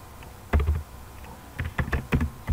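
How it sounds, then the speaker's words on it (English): Keys clack on a computer keyboard in short bursts of quick taps, close and fairly loud, with a brief pause between bursts and no talk. "Typing Earth VPN and clicking enter"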